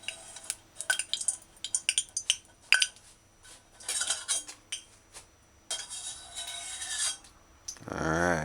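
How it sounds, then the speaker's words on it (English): A spoon scrapes and clinks against a pot while lifting out dried pimento berries and whole cloves from a vegan mushroom tomato stew, giving a run of close metallic taps and rubbing, then a brief louder swish at the end. "use a spoon like this and remove the berries"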